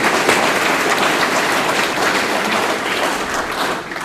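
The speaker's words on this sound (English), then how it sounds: "Let's give all our animal show kids a round of applause." At an FFA banquet a crowd gives the animal show kids a round of applause, a full, loud, continuous patter of many hands that tapers slightly at the very end.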